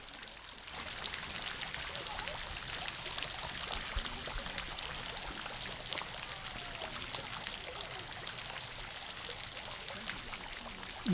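Mineral-laden water at Mother Shipton's Cave petrifying well in Knaresborough trickles and patters steadily over hanging objects, a continuous soft splashing wash with no voices.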